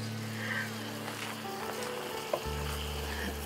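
Chicken kali mirch spices frying in oil in a pan: a quiet, even sizzle with a low hum underneath and a single sharp click near the end.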